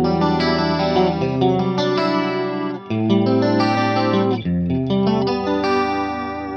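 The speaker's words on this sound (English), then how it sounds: "I have a chorus that's kind of like a stereo 80s vibe" Electric guitar played through a Fractal AX8 with a lush stereo 80s-style chorus, sustained chords ringing with a shimmering, wide modulated tone and slight grit, played alone without talk.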